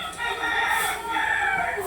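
A chicken calls out close by, a brief clucking cry with a raised, crowing edge, heard alone.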